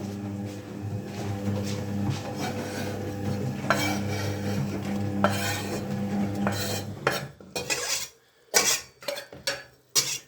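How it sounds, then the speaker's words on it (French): Mushrooms and filet mignon cooking gently in a pan while being stirred, a soft sizzle under a steady hum, then sharper scraping and clanking utensil strokes near the end, no speech. "On remue un peu, on met les champignons correctement pour que ça cuise gentiment et en douceur."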